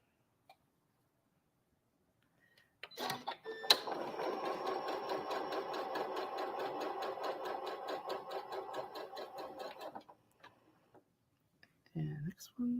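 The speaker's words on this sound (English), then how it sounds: "I want to sew these right away." Sewing machine joining quilt block pieces, a steady run of fast stitching lasting about six seconds after a few small clicks, with quiet handling sounds and brief speech after it stops.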